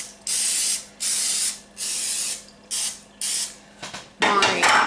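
Cooking spray hisses into a baking pan for cinnamon rolls in a home kitchen, five short close bursts in a row followed by a longer, rougher spurt.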